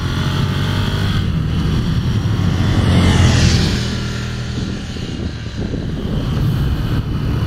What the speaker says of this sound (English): I really like the twin engine sound, the pulsating brrrr, the thrum.